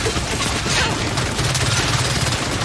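Sustained automatic weapon fire in Gears 5 co-op play, a dense continuous rattle of shots that stays loud and steady throughout, without any talking.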